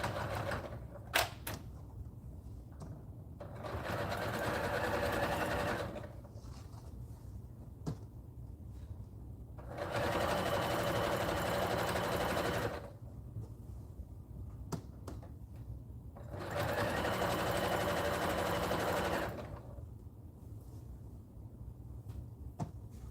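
A sewing machine stitches an embroidered name onto a blanket, running in three buzzing bursts of a few seconds each, separated by quieter pauses with faint handling clicks, close by.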